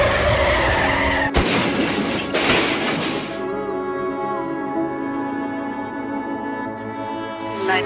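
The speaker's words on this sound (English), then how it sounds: "Two vehicle accident with multiple injuries." A staged two-vehicle accident at a high school safety demonstration: loud close tire skidding, then a sharp impact with shattering glass around the one-second mark, a second crunch, and fading debris and ringing afterward.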